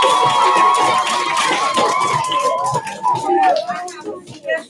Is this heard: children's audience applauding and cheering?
yes